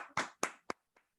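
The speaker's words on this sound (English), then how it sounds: "A round of applause to" A few sharp claps from a small audience greet the third-place winner of a Face the Fire session at a training academy: two strong bursts, then three quicker, fading ones, with no talking.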